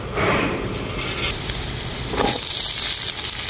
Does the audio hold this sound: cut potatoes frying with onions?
yes